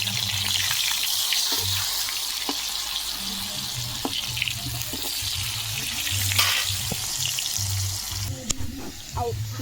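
Potatoes frying in a home kitchen pan give a steady, close sizzle that runs throughout, with soft clinks and stirring scrapes and a few sharper knocks near the end.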